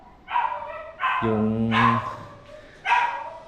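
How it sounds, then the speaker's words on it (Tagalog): A dog barks outside a farmhouse in a few loud, separate woofs spread over a few seconds, close and clear with little else around. "May aso natin dito sa labas."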